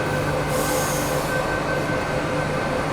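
A Bangalore metro train at National College station rumbles steadily nearby, with a constant roar, tonal hum and a brief high squeal of wheels early on; no voices.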